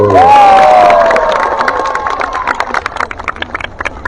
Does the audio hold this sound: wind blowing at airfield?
no